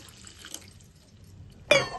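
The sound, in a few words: water poured into curry pan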